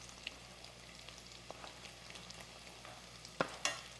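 Cabbage frying in a pan while stirred, a faint continuous sizzle with occasional soft scrapes and a couple of sharper clinks near the end.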